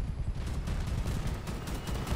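Cannon fire from vehicles in the combat game Crossout, a dense rumbling barrage of booms that goes on continuously for the whole moment with no talk.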